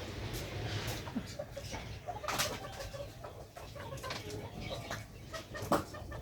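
Chickens cluck and murmur softly in the background, with occasional louder squawks standing out from a low, steady ambient hum.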